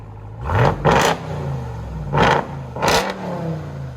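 A supercharged 6.2L HEMI V8 in a RAM TRX with a straight-pipe exhaust revs hard four times. Each loud, close blip of the throttle rises and falls over a deep rumbling idle.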